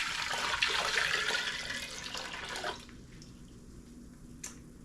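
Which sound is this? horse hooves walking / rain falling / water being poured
water being poured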